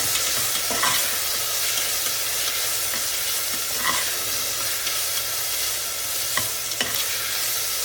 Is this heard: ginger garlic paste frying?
yes